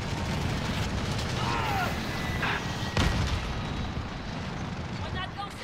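White phosphorus bombardment in a combat video game: a sustained, heavy rumble of explosions with a sharper blast near the middle, under faint voices.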